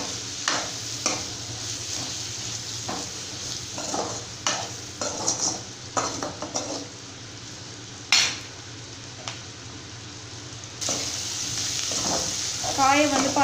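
Brinjal sautéing in oil with turmeric in a pan: a continuous soft sizzle broken by repeated spoon clinks and scrapes as it is stirred, with a voice talking over it at times.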